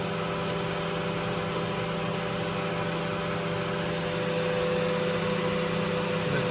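High-speed seal test stand spinning at 30,000 RPM, a steady whining drone with sharp tonal lines, continuous and fairly loud with no talk.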